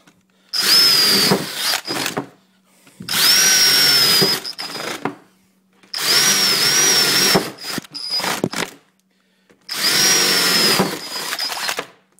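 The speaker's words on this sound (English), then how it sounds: "just drill a series of holes." A power drill whines through four long bursts, drilling a series of holes for a DIY performance filter, each burst a few seconds, with short pauses and brief handling noises between them, close and loud.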